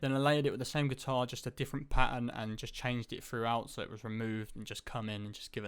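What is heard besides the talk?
None of the usual background noises is heard.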